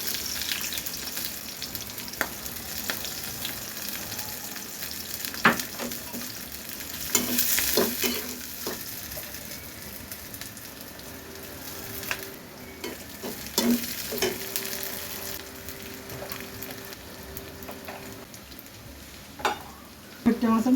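Four or five loitta fish frying in a pan, a continuous close sizzle and crackle of oil with occasional scraping and stirring clinks, steady throughout with faint background sounds.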